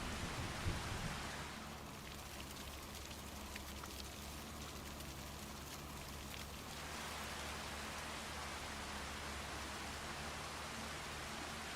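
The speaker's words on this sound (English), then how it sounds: "the rain must be making noise as it comes through the air" Steady rain falls in Farming Simulator 25, a broad, even hiss of drops on the ground that runs for the whole stretch with no voices, growing slightly brighter partway through.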